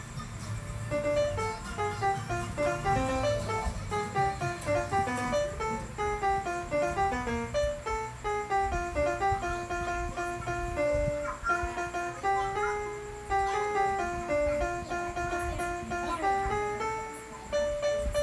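A tune is played on piano as a fast, continuous run of repeated and leaping notes over a busy lower backing, steady in loudness for the whole stretch, with no talking.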